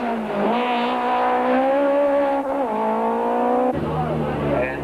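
A Nissan Class A rally car revs hard and accelerates away from the start of stage one at the 1992 Volkswagen Algoa Rally, engine note rising and falling through gear changes, loud and close under a commentator's voice.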